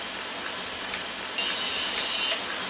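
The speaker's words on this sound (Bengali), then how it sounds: "তেলের মধ্যে ছেড়ে ভেজে নিব" Semolina and gram flour fritters dropped into hot oil for deep-frying give a steady, broadband hiss that grows louder and brighter partway through.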